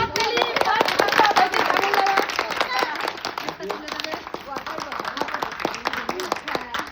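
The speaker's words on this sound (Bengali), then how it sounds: "ওনার জন্য জোরে একটা হাততালি।" A group clapping hands for a winner on a Sundarban trip, a rapid irregular patter of many claps, louder at first then thinning, mixed with voices talking and calling out.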